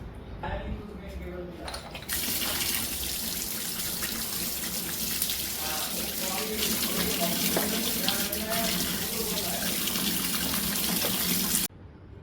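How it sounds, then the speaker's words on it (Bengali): Tap water gushes steadily into a sink while fish are being washed, a loud continuous splashing stream that starts abruptly and cuts off near the end, with faint voices underneath. "আগে ভালো করে মাছগুলো ধুয়ে নিই"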